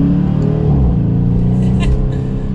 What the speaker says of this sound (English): I can't get over that V8 rumble. It just sounds incredibly good